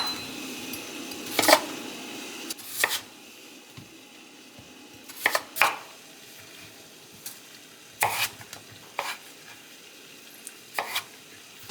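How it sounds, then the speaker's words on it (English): Peeled potatoes being chopped with a knife, several sharp cutting strikes arriving in irregular bursts with quiet gaps between them, close and fairly clear. "I already got them nice and peeled, so I'm just going to chop them up"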